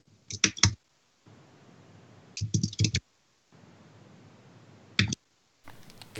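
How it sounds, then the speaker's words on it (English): Bursts of computer keyboard typing in short clusters, separated by gaps of faint background hiss, during an online tabletop game session; no voices over the keys. "there she is typing"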